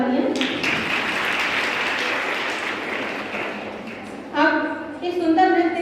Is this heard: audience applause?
yes